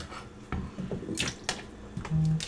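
Cut potato pieces dropped into a bowl of water while making sopa de salchichon, giving several close splashes and plops at irregular intervals with dripping in between, heard alone.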